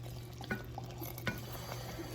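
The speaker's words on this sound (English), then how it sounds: "I like when vanilla bubbles like that" Faint, quiet bubbling of vanilla in a hot chocolate peanut butter no-bake cookie mixture in a pot, with a few soft pops and clicks over a low steady hum.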